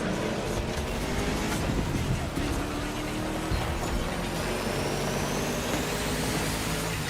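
A 1969 Ford Mustang Boss 429 in the racing game The Crew Motorfest lets out a steady, loud engine drone that fills the whole stretch without letting up, with no talking.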